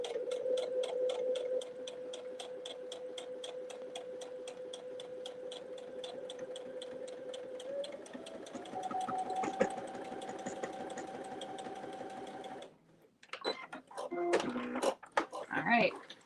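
A sewing machine runs steadily while top stitching a sling, a rapid even mechanical clatter with a droning motor tone that shifts pitch partway, then stops abruptly, followed by brief handling clicks and a voice.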